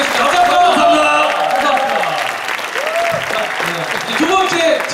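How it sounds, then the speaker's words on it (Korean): A live talk-show audience at a book event gives the authors a sustained round of loud applause, dense clapping filling the full stretch with voices and cheers mixed in. "우리 첫 번째 세 분의 저자에게 큰 박수 부탁드리겠습니다."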